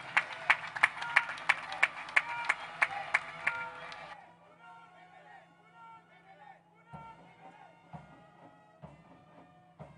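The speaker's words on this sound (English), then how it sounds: "May I request a round of applause for the Chief of the Air Staff?" Audience applause at a funeral for an air marshal: sharp rhythmic clapping for about four seconds, then it stops and quiet room murmur and a few isolated thumps follow.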